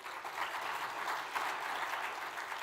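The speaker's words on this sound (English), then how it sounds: "Let's give him a round of applause." Conference audience at a US-India summit applauding, a short burst of dense, even clapping that is fairly distant and quiet in the hall.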